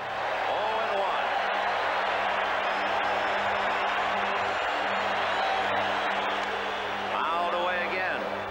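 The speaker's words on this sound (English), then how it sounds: "I enjoy hearing that crowd." A baseball stadium crowd at a 1988 Los Angeles Dodgers game buzzes in a steady, distant roar throughout, with a voice talking over it.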